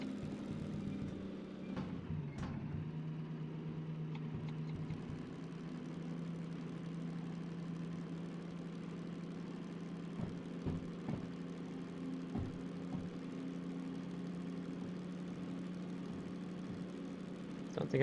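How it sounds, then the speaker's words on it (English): A DH4 diesel locomotive in the Derail Valley train game runs steadily at fairly high RPM, a constant low droning hum with a few faint clicks and bumps over the top and no talking. "Engine RPMs are getting a little bit high."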